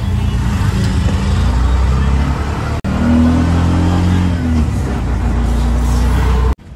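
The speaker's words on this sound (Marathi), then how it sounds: "आणि आता बसलो आहोत रिक्षामध्ये" An auto rickshaw ride in Mumbai, its small engine droning loudly and steadily with rising revving tones and road rumble, briefly cut once midway.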